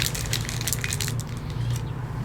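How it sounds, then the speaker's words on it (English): Pineapple daiquiri shaken vigorously with ice in a cocktail shaker, a dense rapid rattle of ice that fades out near the end, heard alone without talk. "we're going to shake that vigorously"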